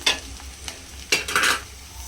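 Onions being stirred in AMC cookware while frying for mutton keema, cooked without added water: a few scraping stir strokes and soft sizzling bursts, fairly close and heard on their own.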